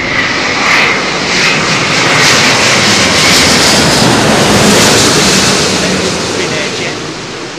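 A jet airliner landing on runway 27L at London Heathrow, a loud close engine roar with a broad rushing hiss that swells and holds for several seconds.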